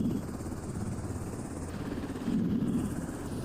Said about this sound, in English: Actually, I can't hear because of the helicopter.